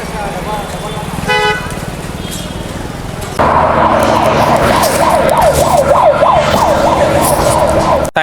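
At a Bengaluru railway station an ambulance-style siren starts up loud and close, its wailing tone rising and falling repeatedly over a background of horns and station noise, following an earlier short beeping tone.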